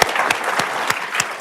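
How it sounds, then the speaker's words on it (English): An auditorium audience at a business leadership speaker series applauds Ed Stack of Dick's Sporting Goods, a close, lively burst of clapping with a few sharp, evenly spaced claps standing out. "let's give Ed Stack a round of applause"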